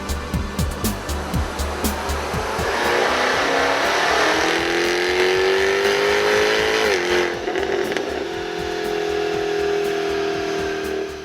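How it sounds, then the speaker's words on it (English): A Jaguar F-Type supercharged V8 gives a few sharp throttle blips, then accelerates hard with a rising howl and a climbing supercharger whine, shifts near the seventh second, and pulls on loud and close. "This engine, being a supercharged V8, makes torque quick and early, and it doesn't relent."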